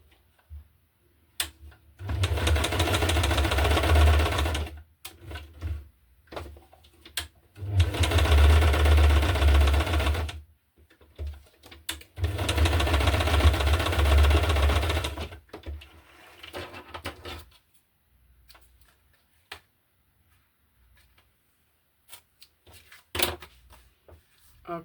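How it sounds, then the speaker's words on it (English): Sewing machine stitching a tab onto a paper tag for a junk journal card, in three steady runs of a few seconds each with short pauses between them, fairly close and alone. "now I will sew on the rest of this tab, the tab on the tag"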